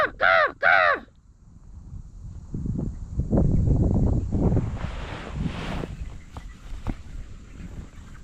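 Two loud, close crow caws open the scene on a farm field during a goose hunt, followed by wind buffeting the microphone, rustling, and footsteps crunching through vegetation.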